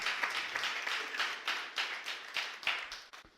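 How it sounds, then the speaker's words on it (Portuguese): A church congregation claps steadily in a dense, continuous patter of many hands, with occasional sharper individual claps standing out, moderately distant and unbroken. "Você pode aplaudir o Senhor?"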